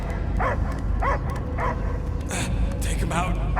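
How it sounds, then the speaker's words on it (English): A dog barks repeatedly in Marvel's Guardians of the Galaxy over a low rumbling game soundscape, with short yips between the barks. "I hear only barking."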